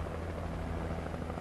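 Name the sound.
helicopter in Alan Wake Remastered video game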